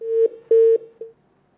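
Telephone line tones as a phone call is taken on a call-in religious question program: three steady electronic beeps, the middle one longest, clear and isolated with no talking.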